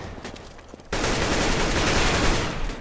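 Rapid automatic gunfire from Counter-Strike: Global Offensive bursts in loud and close after a quieter start, then keeps hammering in a dense, sustained stream to the end.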